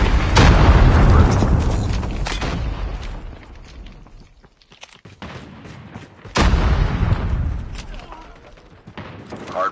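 Grenade and Predator missile explosions in a military shooter video game, heard as several loud booming blasts, one early and another burst around the middle, mixed with gunfire and voiced game callouts.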